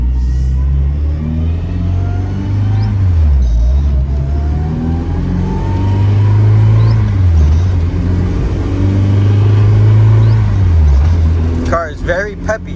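A street car's engine drives through Chicopee, Massachusetts, its rumble rising and falling through several revs and gear changes, steady and fairly loud, with a voice talking over it.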